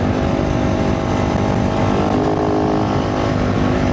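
A motorbike ridden hard along a little dirt track in the desert, its engine droning loud and close with continuous revving and a rough, steady roar throughout.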